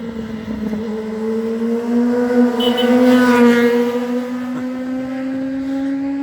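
A car climbs the bends of the SS25 Alpine road near Giaglione, Italy, its engine droning steadily and pulling strongly, pitch rising and easing slightly through the curves, close and loud with no talk.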